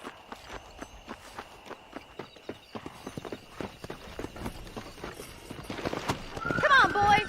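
Horses gallop along in the Western game Red Dead Redemption, a steady rhythmic clip-clop of hooves that quickens and grows louder toward the end, with other game noise building.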